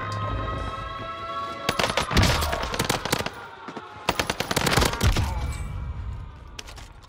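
Armaguerra 43 submachine gun firing in a console video game set on Rebirth Island: bursts of rapid automatic gunfire in two main volleys with scattered single cracks between, over steady game background music.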